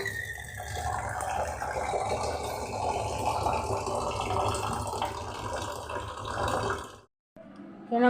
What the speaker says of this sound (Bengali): আমি এখানে জল ভরছি।